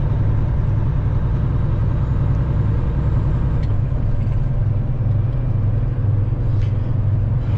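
A truck cab interior on the road, a loud, steady low engine rumble and road drone with no breaks, close and constant throughout.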